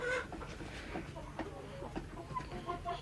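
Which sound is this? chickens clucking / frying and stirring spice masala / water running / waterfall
chickens clucking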